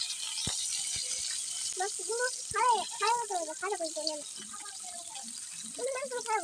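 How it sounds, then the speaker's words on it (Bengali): Rohu fish pieces rubbed with turmeric, chili and salt fry in a pan, giving a steady hiss of sizzling oil throughout while someone talks over it. "উল্টিয়ে দেই যাতে দোনো পিঠি ভাজা হয়।"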